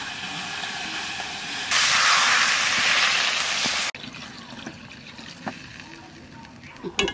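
Sweet curry of tender pumpkin sizzles in the pan, then water goes in and a loud hissing burst flares for about two seconds before dropping to a quieter simmer with light clinks.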